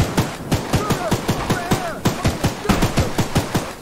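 Rapid bursts of gunfire from the horror video game Choo Choo Charles, roughly a dozen sharp, evenly spaced shots in a steady rhythm, loud and close, with faint game sounds between.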